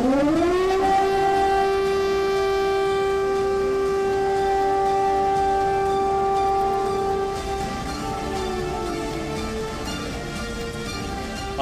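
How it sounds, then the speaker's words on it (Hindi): An air raid siren sounds over a Ukrainian city during the Russian attack, a loud sustained wail that rises quickly, holds a steady pitch, then begins to drop, alone against outdoor background noise. "यूक्रेन के लगभग 11 शहरों में हवाई हमले के सायरन बज रहे हैं।"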